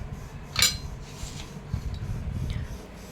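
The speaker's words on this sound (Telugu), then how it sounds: "నేనైతే ఒక ప్లేట్ తీసుకుంటున్నానండి" Dishes clink and scrape in a home kitchen as a plate is taken, with one sharp ringing knock near the start followed by softer rubbing and clattering.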